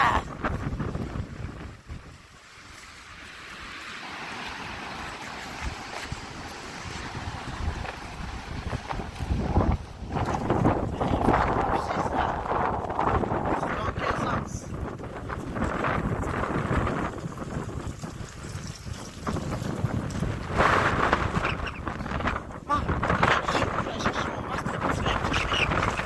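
Violent wind at 70 to 90 km/h roars and buffets continuously, with loud gusts surging and easing over nearly half a minute of rough, broadband blowing.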